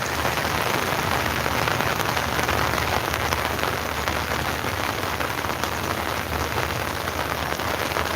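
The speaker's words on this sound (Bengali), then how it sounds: "গত দুদিন থেকেই কিন্তু টানা বৃষ্টি চলতেছে" Steady rain pours over a village in Sylhet, a dense, even hiss of drops striking surfaces that holds unbroken and fairly loud from start to finish, with no voices.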